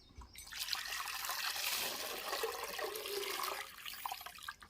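Water gushes and gurgles through a float valve into a cattle shed water trough, swelling loudly then easing off into a softer trickle near the end.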